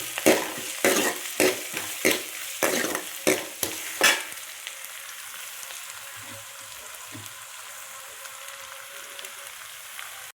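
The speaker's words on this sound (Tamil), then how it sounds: "இந்த பச்சை மிளகாய் எண்ணெயில் நல்லா வதங்கணும்." Green chillies fry in oil for a fish curry while a spoon stirs the pan: about ten quick, loud scraping strokes come first, then a softer steady sizzle carries on alone.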